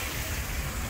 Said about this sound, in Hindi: ये आप हमारे नालों की आवाज़ सुन सकते हैं